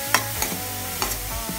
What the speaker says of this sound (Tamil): அதையும் அதுக்கு கூட சேர்த்து நல்லா வதக்கிக்கலாம்.